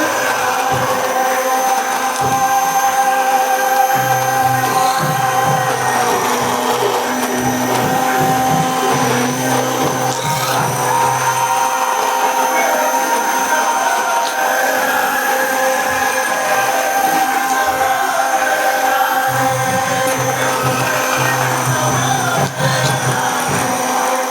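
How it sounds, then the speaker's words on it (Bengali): Hand blender whirring steadily through cake batter, a loud continuous motor drone with a shifting tone as the blade moves in the bowl, close by and without speech. "তো এটাকে আমি হ্যান্ড ব্লেন্ডারের সাহায্যে ভালো করে ব্লেন্ড করে নিচ্ছি।"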